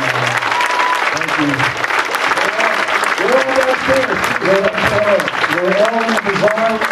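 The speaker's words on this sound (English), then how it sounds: "a big round of applause for all of our guests" A crowd applauds the guests of a voice actor panel, broad continuous clapping at moderate distance mixed with cheering and voices, running steadily for several seconds.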